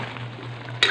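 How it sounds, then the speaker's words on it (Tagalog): Pork humba with pineapple tidbits in a sticky sauce sizzles softly in a pan, with a steady low hum beneath, and a brief scrape of stirring breaks in near the end. "Haluin lang natin."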